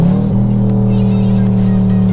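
A stock Chevrolet Camaro convertible at high speed on a track, its engine holding a loud, steady droning tone after a brief dip in pitch near the start.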